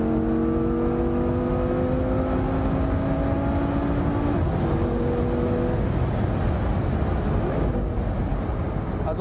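A Lamborghini Gallardo Spyder engine drones loudly and steadily while driving, its tone rising gradually through the gears before settling, with constant road and wind rush and no talk.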